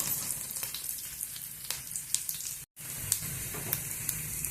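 Green chilies, garlic and curry leaves fry in hot oil for a roasted brinjal curry, a loud continuous sizzle with crackling pops and a brief silent break midway.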